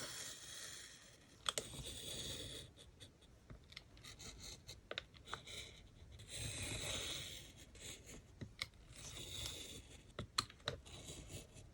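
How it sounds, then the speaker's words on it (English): A knife slices through cardboard while building a fabric-covered box frame for a junk journal, giving a run of close, scratchy cutting strokes and clicks with short pauses between them, and no talking. "I'm going to use the knife"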